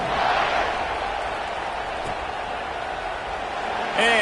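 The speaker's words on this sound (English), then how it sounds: "this crowd is buzzing after that last score" A stadium crowd at a USC vs Texas college football game keeps up a loud, steady roar and buzz after a touchdown, with a brief lift near the end.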